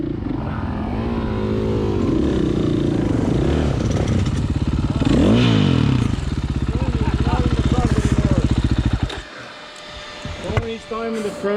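Dual-sport motorcycles, a Suzuki DR 650 and a Honda CRF 450L, rev and labor up steep single-track mountain trail. The engines drone loud and close with rising and falling throttle and a burst of rapid chugging near the end.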